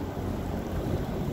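Strong wind roaring and buffeting a microphone during snowfall in Moscow, Russia, a dense low rumble throughout the brief moment, with no voices.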